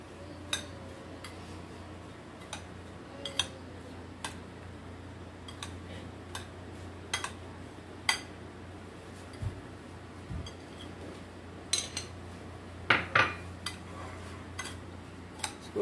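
A spoon stirring melted butter into crushed biscuits in a bowl, with scattered light clinks and taps against the bowl at an irregular, unhurried rhythm over a quiet room hush.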